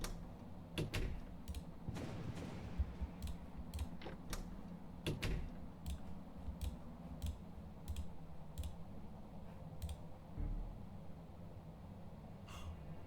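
Sharp clicks and knocks of a door unlocking in the horror game Without Escape, a dozen scattered taps at uneven intervals over a low ambient hum, with no talking.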